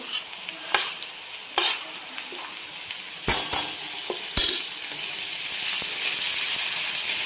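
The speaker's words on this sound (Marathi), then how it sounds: "तेलामध्ये छान परतून घ्यायचं" A green chili, garlic and cumin paste sautés in oil with a steady sizzle that swells toward the end, punctuated by several sharp scrapes and clinks of stirring against the pan, heard up close without talking.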